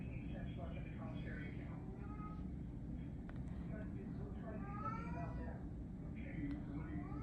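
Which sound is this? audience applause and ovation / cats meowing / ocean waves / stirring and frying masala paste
cats meowing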